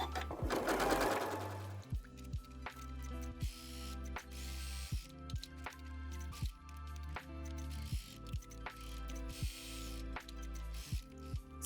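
A sewing machine stitches around a fabric gift tag, opening with a fast continuous whir, then running in short bursts with sharp clicks between them as the fabric is turned, close and clear.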